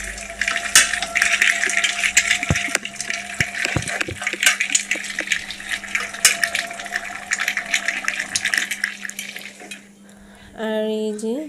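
Duck meat sautéing with spices in a pan, with a steady loud sizzle and frequent scraping, stirring clicks of a utensil against the pan throughout, and a brief lull near the end.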